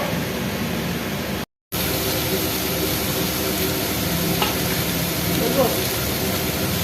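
Ground cumin, turmeric, coriander and Kashmiri chilli powder fry in a pan with a steady, close, hissing sizzle that cuts out for a brief moment before continuing.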